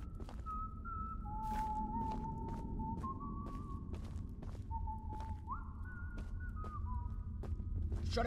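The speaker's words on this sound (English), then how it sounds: "what is this guy whistling?" A video game character whistles a wandering tune of sustained, sliding notes over steady game background noise, with faint footsteps ticking through and no speech.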